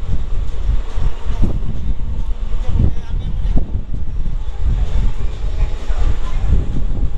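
A Kolkata–Silchar Special sleeper-class train runs through the night with a steady, close rumble and rhythmic clattering thumps from the carriage.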